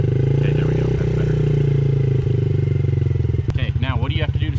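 Yamaha TTR50 dirt bike engine holds a steady buzzing idle, then revs up hard into a rising, pulsing whine near the listener, while an adult's voice talks over the engine.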